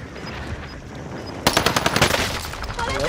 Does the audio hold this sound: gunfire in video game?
yes